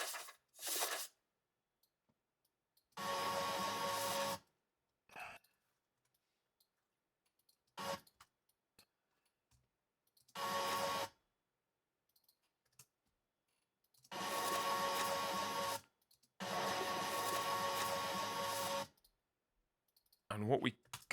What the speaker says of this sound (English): So that's a paper turn sound effect.